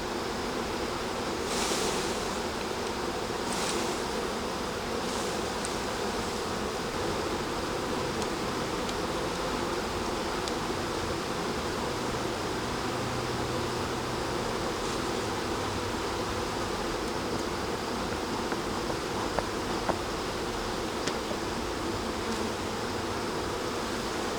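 Honeybees swarm around an open hive during frame work in September, a dense steady buzzing drone close and loud throughout with occasional individual bees zipping past nearer.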